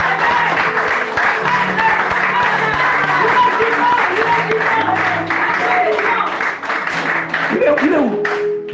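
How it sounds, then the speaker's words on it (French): A church congregation applauding and cheering to acclaim a sister after a wedding, steady clapping filling the whole stretch with crowd noise and some voices mixed in. "la sœur Zoé, on va acclamer."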